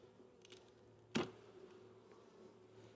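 Honey bees hum faintly near their hive outdoors, a low steady drone with one sharp louder burst partway through, otherwise quiet and distant.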